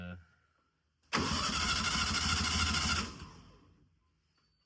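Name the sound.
VW engine cranking over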